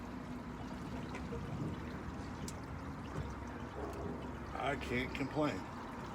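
Fluid being poured back into a vehicle after a repair, about seven gallons: a soft, steady trickling pour running under a man's speech, close by and fairly quiet.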